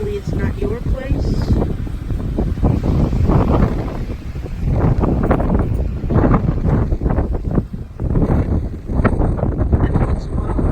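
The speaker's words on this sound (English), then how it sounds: "And once in a while there'll be a big wind." Strong wind gusts from Hurricane Dorian in Stuart, Florida, roar and buffet the microphone in loud, surging waves, with rustling mixed in throughout.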